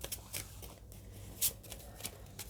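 Tarot message cards are shuffled by hand close up, giving soft riffling and sliding rustles with a few sharper slaps, quiet and unhurried.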